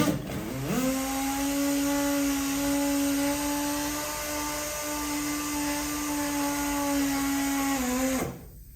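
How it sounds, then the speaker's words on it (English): A pneumatic tool spins up and runs at a steady, loud, high-pitched whine for about seven seconds before cutting off abruptly, with no one speaking over it. "Today we're going to run it with a pneumatic."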